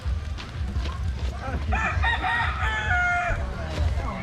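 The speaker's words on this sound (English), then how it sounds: "There's like 6 chickens." A rooster crows loudly nearby while about six chickens cluck around it, against a busy outdoor background in a Philippine village.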